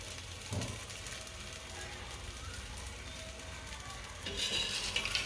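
Sweet pudla batter cooks on a hot pan with a soft, steady sizzle, faint and close, swelling into a louder crackle near the end.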